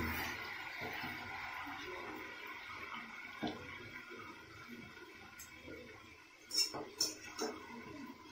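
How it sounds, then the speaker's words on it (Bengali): Meat and potatoes sautéing in a pot, the meat pressure-cooked beforehand: a steady rushing hiss for most of the stretch, then a few louder clinks of stirring toward the end, with no voices. "আলুগুলো দিয়ে দেওয়া হয়েছে, এবার কষানো হচ্ছে মাংসটা"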